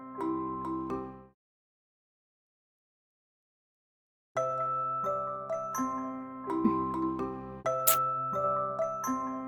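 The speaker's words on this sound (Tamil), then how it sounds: "காலிங் பெல் அடிக்கிறது கேக்குதா இல்லையா உனக்கு?" A chiming doorbell melody plays, breaks off into silence for a few seconds, then rings again in repeated ding-dong phrases, bright and clear.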